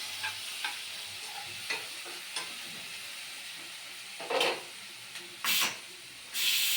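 Onions frying with masala in a pan while being stirred, a low sizzle under scattered spoon scrapes, then several louder bursts of hissing steam toward the end.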